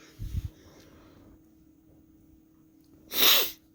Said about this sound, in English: I had a sneeze there